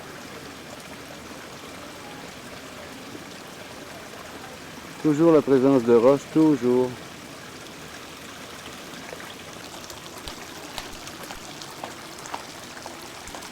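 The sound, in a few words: small waterfall in Ginkaku-ji Japanese garden, Kyoto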